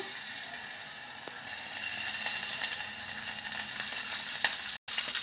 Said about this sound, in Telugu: ఇప్పుడు జీలకర్ర వేసుకున్నాము ఎండుమిర్చి కరివేపాకు